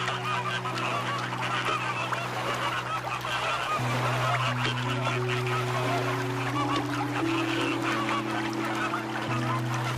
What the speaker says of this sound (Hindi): फ्लेमिंगोस